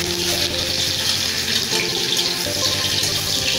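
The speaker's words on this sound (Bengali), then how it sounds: "তা পেঁয়াজটা আমি ছেড়ে দেবো।" Onions drop into hot oil and give off a steady, close, broadband sizzle that carries on evenly throughout with no talking.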